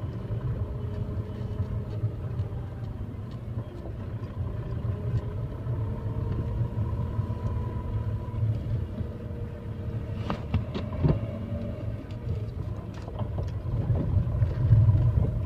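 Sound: Tata Tigor car engine driving uphill

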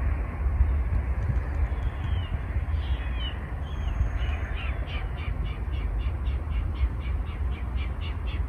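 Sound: birds calling in Patagonia

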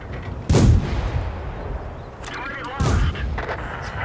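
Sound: M3 Stuart tank gun firing in video game World of Tanks

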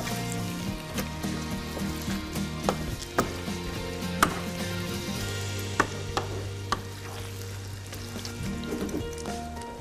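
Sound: pine nuts frying in oil

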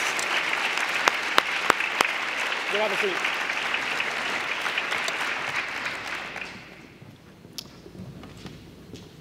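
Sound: audience applause for award winners

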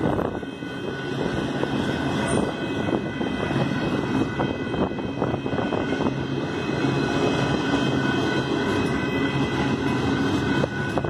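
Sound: Union Pacific 8097 freight train passing

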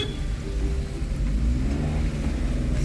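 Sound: car engines revving in a queue of vehicles

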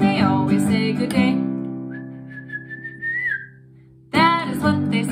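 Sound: whistling imitating birdsong

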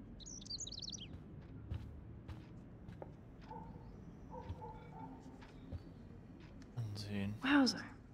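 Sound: bird chirping in the video game Life is Strange

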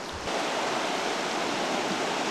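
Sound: river flowing

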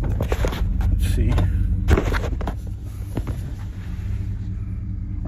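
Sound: Dodge Durango driving after wheel bearing replacement

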